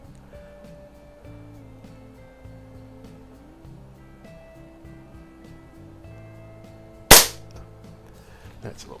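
A Walther LGR air rifle fires a single sharp, loud shot during sporting-rifle league practice. It cracks once against a quiet background of low mechanical hum, with no other distinct sounds.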